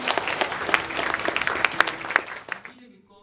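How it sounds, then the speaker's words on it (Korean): Congregation applauding in a church after a choir of military families sings, with dense clapping that carries on steadily before ending abruptly near the close, leaving a short quiet tail. "하나님께 감사 영광의 박수 드리겠습니다"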